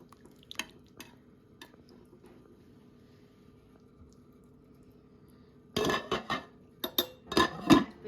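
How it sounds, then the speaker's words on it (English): Irish stew being ladled onto mashed potatoes, with quiet scraping and small clinks of a ladle at first, then a cluster of louder metal-on-dish clanks and wet plops toward the end. "I'm going to take a little bit of the stew, ladle it into my potatoes"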